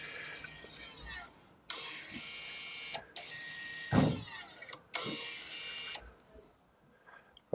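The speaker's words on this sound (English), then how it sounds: "We'll click go and we should hear the brakes go." Electromechanical rear brake motors on an Audi S3 and VW Golf GTE retract during a pad-change service mode, giving a series of faint whirring electric motor runs of about a second each, separated by short pauses, with soft clicks between them.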